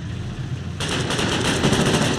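Rapid automatic gunfire rattles continuously in a Foxhole battle, with a dense rumbling barrage that jumps louder partway through and keeps going.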